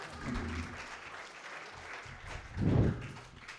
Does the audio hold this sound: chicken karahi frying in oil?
no